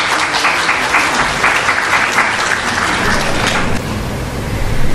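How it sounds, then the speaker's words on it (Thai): Audience applause welcoming a lecturer at a Thai academic lecture event, a loud, sustained wash of many hands clapping that eases slightly near the end. "ขอเสียงปรบมือต้อนรับดร. ละลิตาหานวงศ์ครับ"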